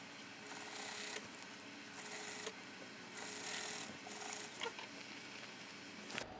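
A sewing machine stitches a dress pant waistband seam in several short runs separated by pauses, with a faint motor whir and rasping fabric feed, quiet and close.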